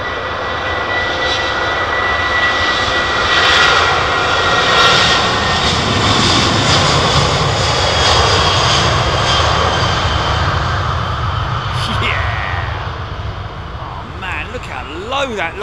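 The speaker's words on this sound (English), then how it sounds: "Listen to this 330 firing up" Widebody Airbus A330 with CF6 engines spooling up at London Heathrow, a loud sustained jet roar with rising whine tones close by, layered with other airport engine noise and a few faint shifting pitches near the end.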